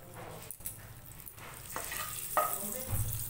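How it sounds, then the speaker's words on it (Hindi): Butter melting into hot leftover oil in a pan, after vegetables were fried for veg pulao, giving a soft, quiet sizzle with a few faint stirring scrapes and clicks. "उसी तेल में थोड़ा बटर डाल दिया है।"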